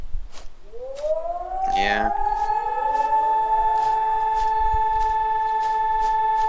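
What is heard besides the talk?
loon call in video game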